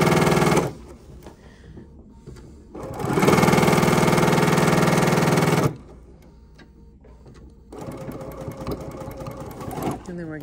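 A sewing machine stitches a fabric door stop with a half-inch seam allowance, backstitching and then going forward, in three loud, close motor bursts separated by quieter pauses.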